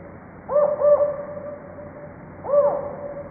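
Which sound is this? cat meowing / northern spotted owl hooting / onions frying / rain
northern spotted owl hooting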